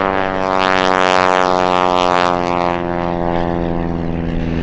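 A military warbird propeller plane powers up and departs from runway 36 left at the EAA AirVenture Oshkosh 2021 airshow, its loud, droning engine roar steady and close, slowly easing off slightly toward the end.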